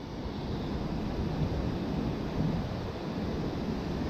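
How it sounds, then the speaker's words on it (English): Ocean waves breaking, a continuous low wash of surf mixed with wind buffeting the microphone, a dense, steady roar that swells slightly at moments, with no voices. "And this is the wave today."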